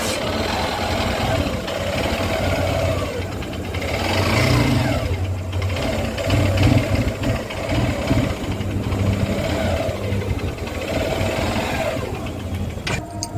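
A motorcycle engine runs roughly outdoors, a steady mid-pitched mechanical drone with uneven surges that comes through loud and continuous, with no talking over it.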